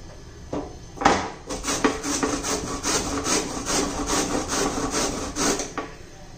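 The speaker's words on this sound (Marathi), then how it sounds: "आता कोबी किसून घेऊया।" Cabbage is grated by hand for veg momos. A rhythmic series of close, scraping rasps follows at a steady pace for several seconds.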